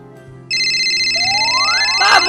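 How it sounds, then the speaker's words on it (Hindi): A phone ringtone starts abruptly and keeps ringing as a bright, repeating electronic melody. A rising whistle-like sweep builds over it near the end. "चलो फोन कर लेती हूँ रुखसाना को।"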